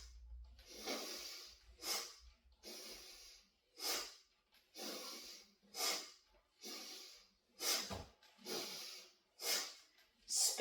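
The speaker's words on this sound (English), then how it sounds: "Inhale left, exhale right, twisting the torso." Rapid, forceful breaths in and out during a seated yoga torso twist, about ten sharp hissing puffs in a steady rhythm, close and clear, with no talking.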